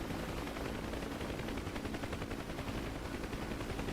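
Rapid, continuous machine gun fire from a helicopter gunner in the DCS flight simulator game, a steady rattling burst held at even loudness throughout with faint engine drone beneath.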